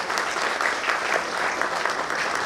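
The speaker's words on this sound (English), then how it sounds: "can we please have a huge round of applause?" Steady, dense applause from an audience at the launch of a doctor-patient networking platform, loud and continuous with no break throughout.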